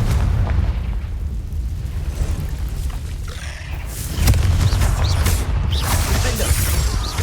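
Confringo blasting spell explosion in Hogwarts Legacy inside a cave, a loud booming burst rising out of continuous rumbling combat noise with scattered crackles.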